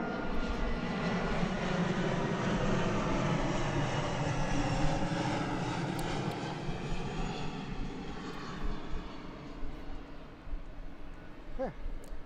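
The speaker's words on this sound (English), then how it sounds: "I've got another plane coming overhead." A propeller airplane passes overhead outdoors, a steady broad engine drone that swells and then slowly fades, heard alone without talk.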